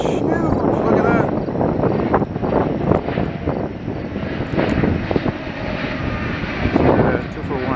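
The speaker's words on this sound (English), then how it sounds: "I think that's a 787 Dreamliner." A Boeing 787 Dreamliner passes overhead near a railway station in Montreal, its broad engine roar loud and continuous while people talk excitedly over it.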